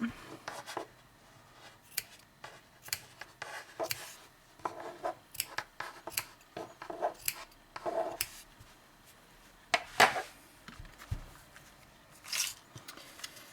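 Scissors snipping the fringe of a crocheted tartan scarf, a quick irregular series of close, crisp cuts with small rustles of yarn in between, continuing throughout.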